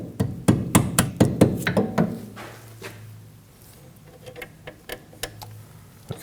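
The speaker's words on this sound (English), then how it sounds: "I'm just going to give that a little tap." A hammer taps a shim into a rear brake hose bracket on a 2003-2006 Subaru Baja: a quick run of sharp, close metallic taps in steady rhythm, then a pause and a few lighter, scattered taps.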